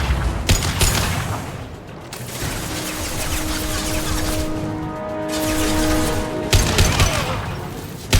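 Gunfire in Mass Effect 2 on Omega: loud, dense volleys of shots crackle in bursts, easing through a stretch of mechanical whirring and humming tones before sharp shots flare again at the end.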